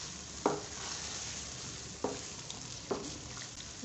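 Marinated mutton and masala being fried and stirred in a pot with a little water, a steady soft sizzle broken by three sharp scraping stirs of the spoon, close and moderately loud.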